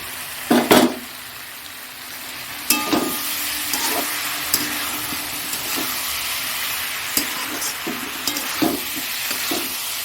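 Fried eggs stirred into a soybean and potato curry in a pan, a continuous sizzle broken by loud metallic spatula knocks and scrapes against the pot, close and without talk.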